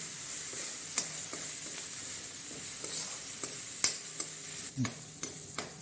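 A pan of cabbage curry with turmeric is stirred over steady low sizzling, the spoon scraping and knocking against the metal roughly every half second, with one sharper clink partway through.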